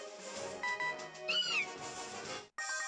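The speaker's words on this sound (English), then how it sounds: "It's a skitty! It's a little skitty kitty!" Skitty's cry in Pokémon Omega Ruby, a short cat-like mewing call with a rising squeal, playing over game music and effects before a sharp cut.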